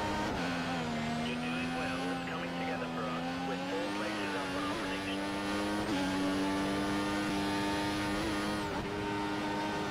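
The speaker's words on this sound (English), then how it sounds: "we are so close to Alonso right now that we are getting his slipstream" Formula 1 cars racing at Belgium in the F1 2014 video game, a loud sustained engine whine rising and falling through gear changes as cars run close together, with a faint voice underneath.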